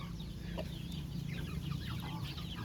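Native free-range village chickens cluck in short, scattered calls over a low, steady farmyard hum, moderately close and continuous, with no talk.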